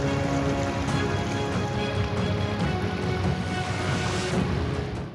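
Heavy rain pours steadily during floods in Uttar Pradesh, a dense, unbroken hiss of water striking surfaces throughout, with no voices.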